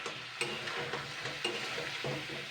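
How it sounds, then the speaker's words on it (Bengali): Rooster meat with soy sauce fries over medium heat, a low steady sizzle broken by a few sharp scrapes and knocks of stirring in the pan, close and faint with no talking. "এবার আমি একটুখানি ভালো করে নেড়ে ছেড়ে নেবো।"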